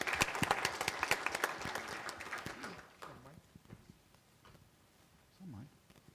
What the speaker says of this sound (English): I think we should give an applause to UFS for that effort.